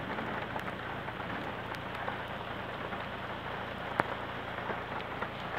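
Heavy rain pours steadily during a moderate thunderstorm in Livron, Drôme, a dense continuous hiss of drops with a few sharper splats, no voices.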